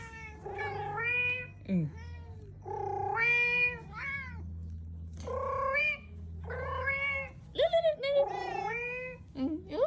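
A cat meows repeatedly in drawn-out, wavering cries, some rising into caterwauling, close and fairly loud, with a low steady hum running beneath.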